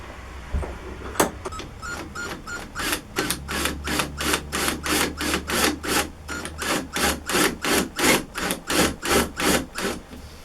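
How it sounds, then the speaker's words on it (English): Rhythmic rasping strokes drilling into wood for intarsia, about twenty back-and-forth passes at a steady pace, close and loud. "I am just going to drill a little bit in there."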